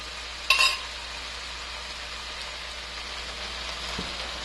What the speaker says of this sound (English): we'll let that simmer for a few minutes